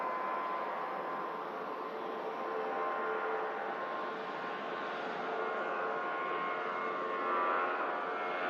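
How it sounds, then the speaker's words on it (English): Jet airliners taxiing out for departure at Manchester Airport, a steady broadband engine roar and whine at moderate distance that holds evenly throughout, with no voices. "Lovely couple of aircraft on the taxi out now for departure."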